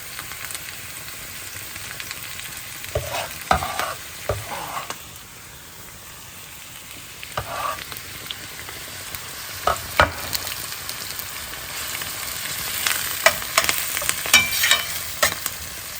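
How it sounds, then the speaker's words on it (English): Herbs go into a pot of Greek gigantes bean soup with Indian spices and are stirred, with a soft, steady sizzle and intermittent scraping spoon strokes close by over about sixteen seconds. "In go the rest of the herbs."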